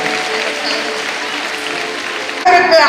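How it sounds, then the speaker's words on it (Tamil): Students at a school annual sports meet prize distribution applaud with steady, dense clapping that swells louder near the end. "மாணவ செல்வங்களே, உங்கள் கரகோஷங்களை இன்னும் அதிகமாக கொடுக்க அன்புடன் கேட்டுக்கொள்கிறோம்."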